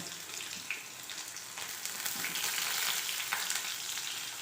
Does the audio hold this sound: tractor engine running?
no